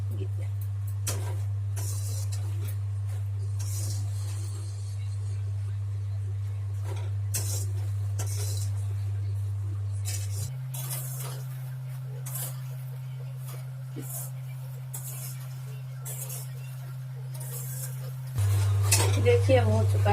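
Ingredients for panjiri are stirred and slowly roasted in a little ghee in a pan, with a spoon scraping and clinking against the metal over a steady low stove hum, with faint talk at times.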